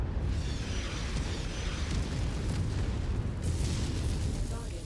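Cannons and artillery fire in a military strategy video game, heard as a dense, continuous rumble of booming blasts and explosions that runs steadily under the action.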